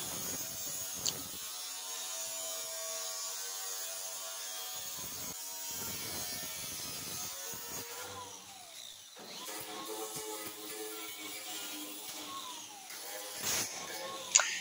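A flap disc grinds the metal of a 1962 Impala quarter panel in short, intermittent bursts, a buzzing whine that starts and stops repeatedly, with quieter gaps between passes and some distant background noise.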